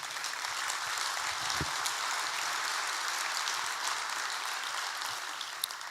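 An audience claps steadily at a motivational talk on personal time, a dense wash of hand claps sustained for several seconds at moderate distance, with no voices over it.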